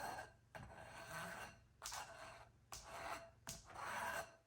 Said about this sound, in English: Usually I clean my strainer like that.